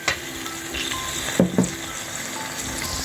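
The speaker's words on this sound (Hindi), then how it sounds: "ऑनियन को फ्राई किया। ये इतना फ्राई करते हैं, और इसमें ये जिंजर और गार्लिक भी ऐड करेंगे इसी में।" Onions frying in a pan with ginger and garlic for a qeema karela dish, a steady close sizzle with a couple of brief stirring scrapes and no talking.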